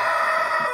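A rooster crows in a hen coop kept with a Brahma hen and chicks, one sustained call held loud and close across the whole moment with no voices.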